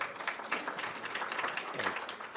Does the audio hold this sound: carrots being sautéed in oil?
no